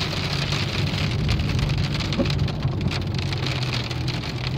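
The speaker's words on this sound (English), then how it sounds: "Severe thunderstorm warnings issued, and we got a hailstorm." Hail and heavy rain pelting surfaces during a severe March thunderstorm in Pittsburgh, a dense, steady outdoor clatter and hiss that holds loud and even throughout, with no talking.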